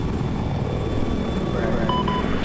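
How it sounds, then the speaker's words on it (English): Attack helicopter in the video game Battlefield 4, a steady rotor and engine drone that fills the clip at an even level, with faint tonal beeps near the end. "Helicopter, attack chopper at Delta."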